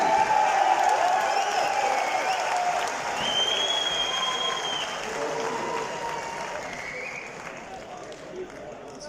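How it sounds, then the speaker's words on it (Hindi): Sustained applause from a mushaira audience greets a poet, a dense wash of many hands and crowd noise that slowly thins, with voices and whistle-like tones over it. "ख़वातीन और हज़रात, भरपूर तालियों से इस्तकबाल कीजिए"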